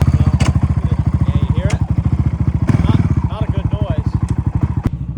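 A machine transmission grinding in reverse, with worn sprockets missing teeth, runs as a loud, steady, rapid mechanical chatter close by, with a few sharp knocks and clanks over the top.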